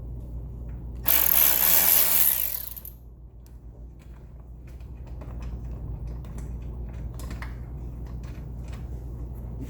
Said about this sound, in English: get our ratchet on 5mm and take those loose right there